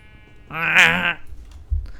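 A sheep in the Minecraft video game gives a single short, nasal bleat, close and clear, followed by a faint low thump.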